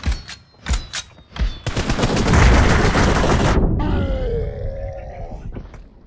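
Gunfire in the PUBG Mobile battle game: a few sharp early shots, then a loud sustained burst of rapid fire lasting about two seconds, followed by quieter game sounds and a few faint distant pops.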